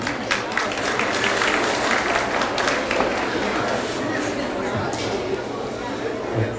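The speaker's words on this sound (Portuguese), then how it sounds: "Vamos aplaudir novamente" Audience applause at a solemn civic session in a legislative chamber, a steady sustained clapping from a full room, close and even in loudness throughout, with faint chatter beneath.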